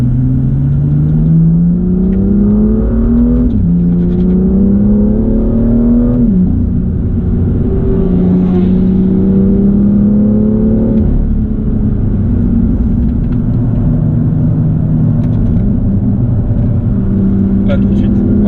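A race car on the Le Castellet circuit, an M2, drones loudly from inside the cabin. The engine pitch climbs repeatedly through the gears, each rise ending in a shift, while people talk over the noise.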